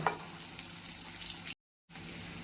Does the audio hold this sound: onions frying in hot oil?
yes